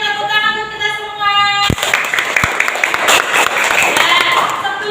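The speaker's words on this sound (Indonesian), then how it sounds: "tepuk tangan untuk kita semua" Students in a classroom clap together, a burst of hand claps that starts sharply after a sustained tone and continues as dense, fairly loud clapping with a few sharp individual claps standing out.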